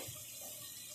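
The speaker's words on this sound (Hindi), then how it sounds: "अब मैं इसमें ऐड करने लगी हूँ पानी" Water poured into a pot of meat and okra curry, a steady, soft hiss of running liquid lasting the whole moment, fairly faint and uninterrupted.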